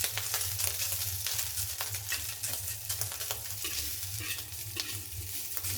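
Char siu pork stir-fried in a hot wok with a little oil sizzles steadily and loudly up close, with frequent scraping stirs and clatter throughout.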